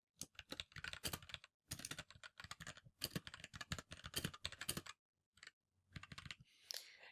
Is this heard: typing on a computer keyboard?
yes